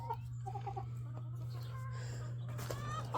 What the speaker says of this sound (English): And this is Duke, who thinks these chickens are his buddies